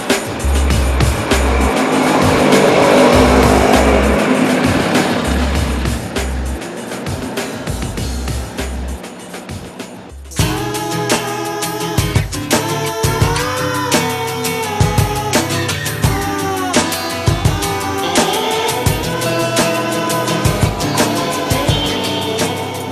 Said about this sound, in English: this tuk-tuk with the 3 of us in it was going to have some struggles getting up the hills